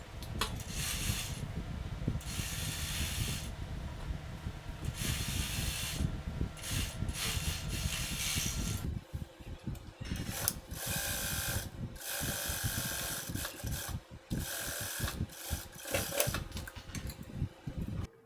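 An overlock sewing machine runs in steady, whirring bursts, stopping and restarting several times. The mechanical buzz is close and fairly loud, with no talking.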